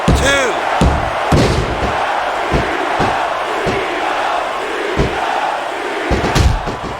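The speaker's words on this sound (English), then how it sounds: "This capacity crowd is certainly getting its money's worth here tonight." A wrestling arena crowd from the WWE SmackDown vs Raw 2006 video game roars steadily under loud slams and thuds on the ring. A commentator talks over the din.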